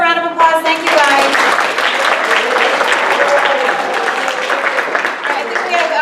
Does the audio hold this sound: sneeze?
no